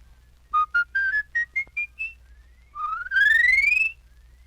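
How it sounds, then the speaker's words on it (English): A palate whistle climbs through a whole octave in a run of short stepped notes, then sweeps upward in a long sustained glide, bright and close with nothing else heard. "Now with your palate whistle, you can run a whole octave"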